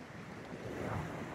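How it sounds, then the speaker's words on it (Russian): Rough Black Sea surf at Pitsunda, Abkhazia, churns and rushes close by, a steady wash of water noise swelling slightly toward the end, with wind buffeting the microphone. "красивейшее, бурлящее море."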